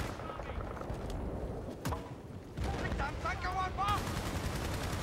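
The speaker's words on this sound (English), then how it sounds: "That's why there's bullets flying at me." Gunfire rattles in Battlefield Bad Company 2 Vietnam on the Phu Bai Valley map, with steady automatic fire and scattered shots running throughout, plus a sharp crack near the middle.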